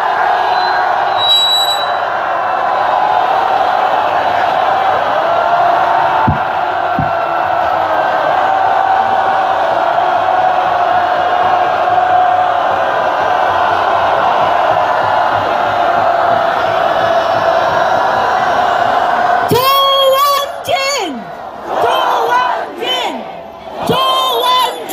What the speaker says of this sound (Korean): 저분들 위해서 함성 한번 질러주십시오.